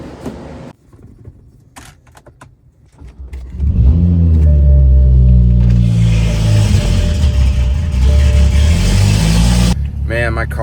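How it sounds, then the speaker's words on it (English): After a quiet stretch with a few clicks and handling noises, a car engine fires up in an enclosed garage and settles into a loud, booming, echoing idle, then cuts off near the end. "my car is way too loud for that garage"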